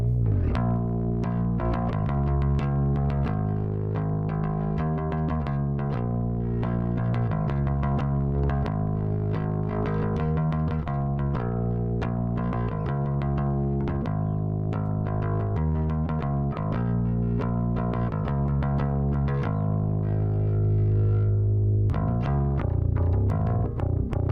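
Bass line driven through the Slate FG-Stress compressor plugin with distortion engaged and blended in parallel, playing a steady, thick, saturated groove alone and loud throughout, with repeated sustained low notes.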